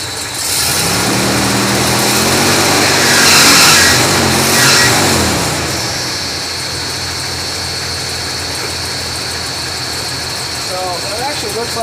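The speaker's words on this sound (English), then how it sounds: "Still give it a little rev." A car engine idles steadily with a short rev rising and falling early on, while a person talks over it.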